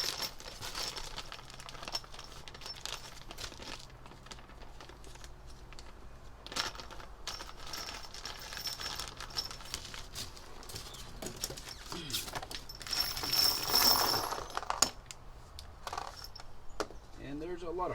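A plastic bag of hardware screws for a 2009 Jeep JK stubby winch bumper crinkles and rustles up close as it is opened and handled, with small clicks and a burst of crumpling near the end, while someone talks.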